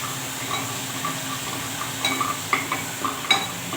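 Spiced masala with turmeric sizzles steadily in a pan for a Marathi kadhi, with light stirring scrapes and a few metallic clinks near the end, close and moderately loud, no voices.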